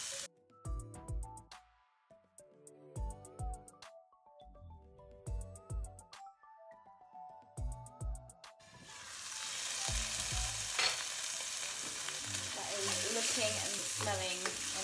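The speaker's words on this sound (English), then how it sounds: "this is probably gonna spit and splatter on you, so give it a quick mix and put the lid back on" Sweet potato and butternut squash curry vegetables in olive oil, first stirred in short bursts of scraping and clattering with pauses between, then breaking into a loud, continuous sizzle and spitting that carries on steadily to the end.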